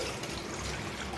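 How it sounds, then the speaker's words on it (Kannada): Water pours steadily from a container into a bowl, a liter for pani puri water, a continuous close trickle with no talk. "ಪಾನಿಗೆ 1 ಲೀಟ್ರ್ ನೀರು ಹಾಕ್ಕೊತಿದ್ದೀನಿ ಇದರಲ್ಲಿ"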